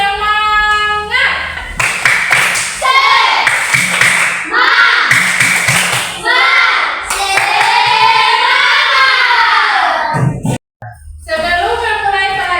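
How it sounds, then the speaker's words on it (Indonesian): Children in a classroom during an Islamic religious education lesson do a rhythmic clapping chant, bursts of claps alternating with loud chanted voices in a steady call-and-response pattern, close and lively. "kita tepuk semangat dulu ya"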